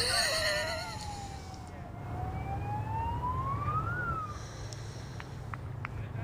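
An ambulance siren wails from a distance near a T20 cricket ground, its pitch slowly sweeping down and then rising over steady low background noise, with a few sharp knocks near the end.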